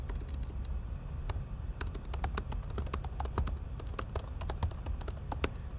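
Fast typing on a computer keyboard, a dense run of sharp close key clicks with uneven rhythm and occasional louder taps, no voice over it.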